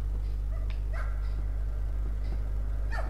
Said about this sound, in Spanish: Ladridos.